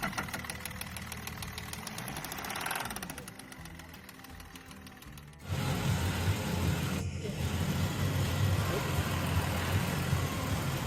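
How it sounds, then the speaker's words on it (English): A car engine runs with a rough, heavy, truck-like rumble, louder in the second half, with a brief dip midway. "this customer came in because they think their engine sounds too much like a truck"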